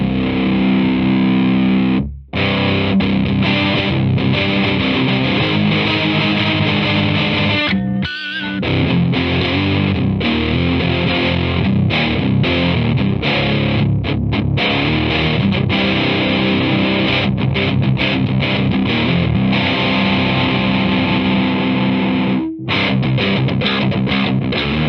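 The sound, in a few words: Fender metal distortion pedal through Fender Hot Rod Deluxe amp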